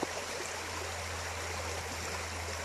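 Steady broadband rush of creek water flowing over rocks along a nature trail, constant and fairly close with no breaks, heard alone without voices.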